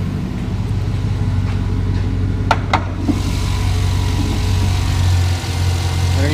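A 2008 GMC Sierra with a 5.3 liter Vortec V8 idles steadily, giving a smooth, even, low rumble close by with a couple of brief clicks partway through.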